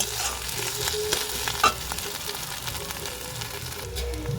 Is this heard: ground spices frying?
yes